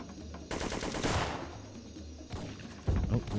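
Shotgun fire in the PS1 video game Syphon Filter 3, loud blasts over a dense in-game soundscape, with a heavy boom near the end.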